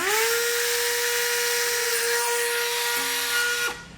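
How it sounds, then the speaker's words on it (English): A Dremel rotary tool cuts through plastic trim for a trailer hitch on a 2019 Cadillac XTS, a high steady whine that drops in pitch near the end before stopping. "I'm going to use a Dremel tool to do that."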